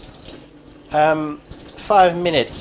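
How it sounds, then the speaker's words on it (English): Hot water running from a tap into a small pan holding two eggs, a steady broadband rush under a voice speaking twice in the kitchen. "So I'm putting some hot water so it goes quicker."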